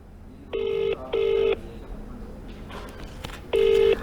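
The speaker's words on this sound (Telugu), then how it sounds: "ఆయన ఫోన్ చేస్తున్నాను, రింగ్ అవుతుంది." A telephone ringback tone sounds while calling a district revenue officer: two short paired beeps, a pause of about two seconds, then another beep, each a clear electronic tone over faint background hum.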